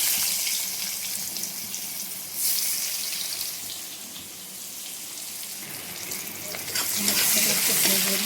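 Onion frying in hot oil in a wok-style pan with black cumin seeds and bay leaf, for a hilsa fish curry; a steady close sizzle with brief stirring, louder toward the end.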